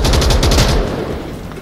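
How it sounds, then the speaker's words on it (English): Gunfire in the VR shooter game Onward, a loud rapid burst of shots that fades into a rumbling tail over under two seconds. "Someone is shooting from behind."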